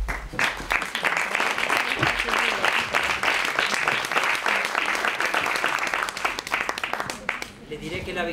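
An audience at a theatre and neuroscience event applauds warmly, dense clapping sustained for several seconds before it fades out.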